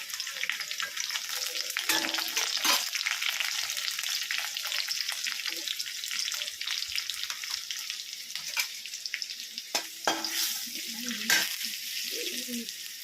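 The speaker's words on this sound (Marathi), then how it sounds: "त्यानंतर आपलं छान असं मिरची आणि लसूण छान असं तळलेलं आहे" Green chili, garlic and turmeric fry in hot oil with a bright continuous sizzle and crackle, close up, with occasional sharper spits and stirring scrapes throughout.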